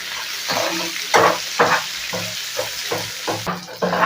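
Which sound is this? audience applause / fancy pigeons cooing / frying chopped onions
frying chopped onions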